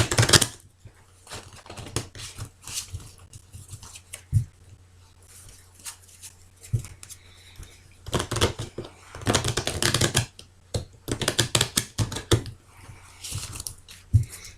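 Tarot cards shuffled close up, giving a dry, irregular papery riffle and clatter in several bursts, with quieter pauses between handfuls and no talking.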